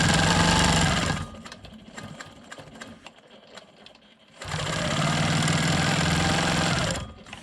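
A sewing machine quilts stitch in the ditch on a rolling stone block, running in two loud, fast bursts of buzzing stitching separated by a quieter pause of a few seconds with light handling noises.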